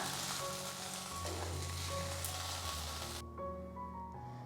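Okra sizzles and fries in oil in a kadai, a steady close crackle with a stir partway through, then a sudden drop to quieter low sizzling near the end.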